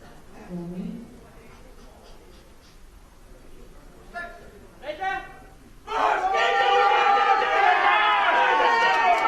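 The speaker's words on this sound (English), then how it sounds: "he's being cheered on by the home crowd" A home crowd at the 2015 IPC Powerlifting European Open Championships in Eger erupts into loud sustained cheering and shouting for a men's -54 kg lifter, after a quieter stretch of scattered voices and murmurs.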